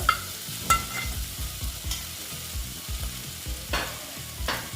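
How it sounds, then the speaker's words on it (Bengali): Potatoes go into a frying spice paste that has released its oil and are stirred, with a quiet sizzle under repeated rhythmic scrapes and knocks of a spoon against the pan. "মশলাটা প্রায় অনেকটাই ভাজা হয়ে যাচ্ছে হয়ে গেছে তেলও অনেকটা ছেড়ে দিয়েছে এখন আমি আলুগুলো দিয়ে দিচ্ছি"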